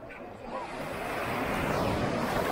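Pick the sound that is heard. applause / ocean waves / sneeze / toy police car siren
ocean waves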